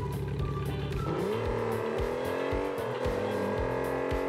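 Engine of the Gazelle car in a racing video game, a loud close exhaust rumble revving up in repeated rising pulses, with a steady buzzing drone underneath.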